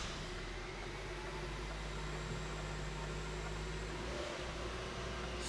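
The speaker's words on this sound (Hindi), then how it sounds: "गाड़ी स्टार्ट हो चुकी है और एक बड़ी ही ज़बरदस्त किस्म की और बड़ी ही विजिबल किस्म की टर्बो की साउंड इसके इंजन से आ रही है।" A DFSK Glory 580 Pro engine idles steadily after starting, with a low hum and a faint high turbo whine running throughout, close by and fairly quiet.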